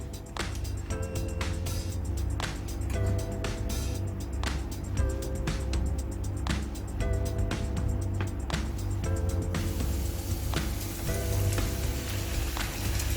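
Chicken pieces fry in a hot pan of oil for crispy fried chicken, giving a continuous crackling sizzle with scattered pops, accompanied by faint tonal music in the background.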